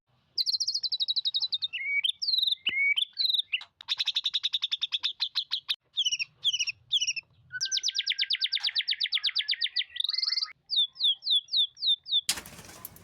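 A white-rumped shama sings a long, varied sequence of bright whistles and rapid chirping trills, close and loud, with brief pauses between phrases.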